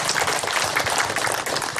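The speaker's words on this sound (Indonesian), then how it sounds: "Tepuk tangan untuk kampung itu." Villagers applaud at a gathering welcoming a regency head and provincial officials, a continuous wash of many hands clapping with a faint murmur of voices behind.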